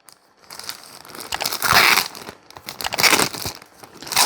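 Plastic packaging crinkles and crunches loudly as a Temu shoulder bag is unwrapped, rustling in bursts that swell and fade over a few seconds, with no talking.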